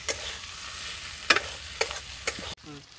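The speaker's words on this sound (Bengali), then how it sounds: "এটা একটু ভালো করে কষিয়ে নিই, তারপরে নুন লঙ্কা হলুদ এগুলো সব কিছু পড়বে।" Spice masala with tomatoes for mutton being sautéed, a close, bright sizzle with several sharp stirring scrapes, the frying hiss cutting off near the end.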